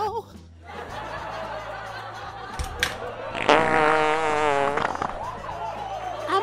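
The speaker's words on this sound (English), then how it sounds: "Ain't nothing like white butt crack farting in the wind." A fart breaks out over a noisy backdrop, a long buzzy rumble lasting about a second and a half, followed by snickering and chuckling from people nearby.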